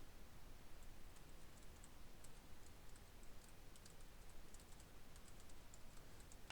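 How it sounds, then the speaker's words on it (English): Light, irregular keystrokes on a computer keyboard as HTML code is typed, quiet and close, with rapid clicks in small bursts over a steady low hiss. "You can see I just typed in the paragraph tag that time"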